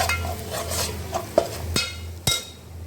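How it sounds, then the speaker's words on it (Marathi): Chicken masala with red chili powder being sautéed in a small pan, with a low steady sizzle and several sharp scraping and tapping strokes from a stirring spoon against the metal. "आता व्यवस्थित परतून घेऊया"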